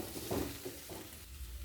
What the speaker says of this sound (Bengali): এরপর নাড়াচাড়া করে নেব।